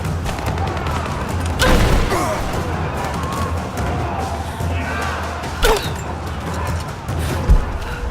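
Gunfire in the Rise of the Tomb Raider video game: a few sharp shots burst out over a rumbling battle ambience, spaced apart and fairly loud against the steady background.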